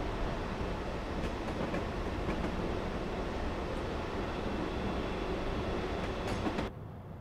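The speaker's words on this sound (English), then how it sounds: "I say certainly seeing a steam train coming the other way" A steam train rolling past on the Woodhead Route in Train Sim Classic, a dense steady rumble and clatter with faint rhythmic clicks, cutting off abruptly near the end.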